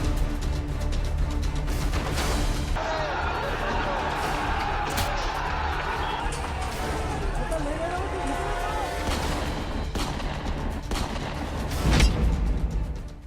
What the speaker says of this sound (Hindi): कैमरे पर फायरिंग चैप्टर